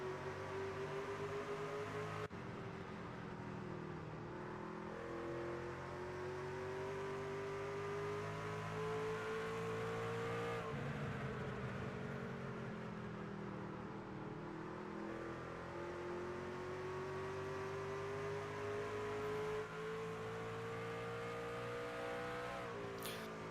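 Race truck engine roaring steadily on the oval at Richmond Raceway in a Triple M Pulling Truck Series event, a sustained loud drone with slowly shifting pitch as the truck runs through turns one and two, no talk over it.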